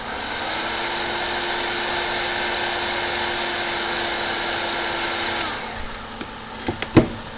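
A heat gun blows steadily on a solder joint of a controller's black ground wire, a continuous even whoosh that runs for several seconds, then cuts off and leaves a few small clicks and taps.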